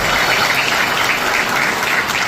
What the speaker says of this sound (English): let's give Herb a round of applause.